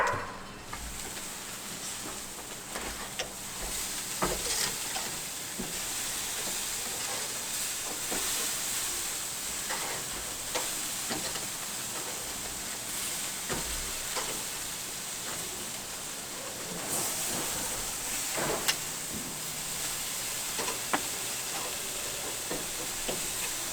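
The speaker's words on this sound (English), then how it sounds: "The smoke you see here, that's just that olive oil and that meat getting that nice sear." Pork chops in olive oil searing on a charcoal grill, giving a continuous loud sizzle and hiss close to the mic throughout, with small crackles and pops scattered through it.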